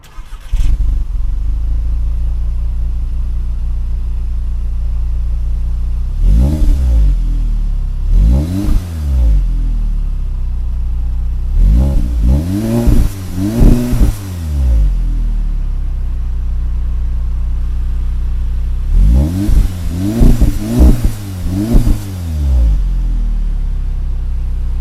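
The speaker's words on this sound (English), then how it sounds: "I'm going to drive it, do a 0 to 60, let you hear what it sounds like" 2016 Audi S3 accelerating hard from 0 to 60, loud engine revs climbing through several gears in repeated surges with shift breaks, over a constant close cabin rumble.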